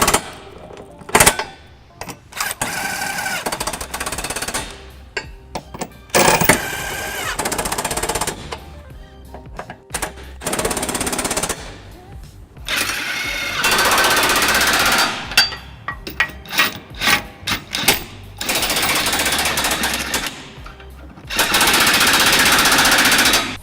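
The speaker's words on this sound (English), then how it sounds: "we're going to run these bolts up using a 17mm socket, and I've got a little impact here" An impact wrench with a 17mm socket rattles in loud, rapid bursts, stopping and starting repeatedly as trailer hitch bolts are run up on a 2003 Lexus RX300, with brief pauses between runs.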